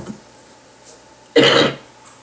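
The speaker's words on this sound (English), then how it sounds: "That was a good cough." A single loud, harsh cough bursts out for about half a second, close to the microphone, with quiet room noise before and after.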